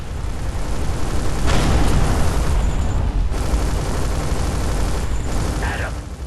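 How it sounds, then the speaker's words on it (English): Reserve torpedoes fired from a spaceship in Everspace 2 go off as loud, dense explosions that swell into a sustained roaring rumble lasting several seconds, with brief tonal cues and voices faintly over it. "Fire all reserve torpedoes at once."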